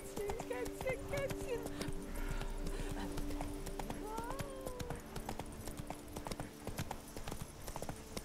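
Horse hooves clip-clop steadily in The Witcher 3 as a rider heads into town, a brisk rhythmic trot with soft whinny-like tones, fairly close, under game music and a voice speaking.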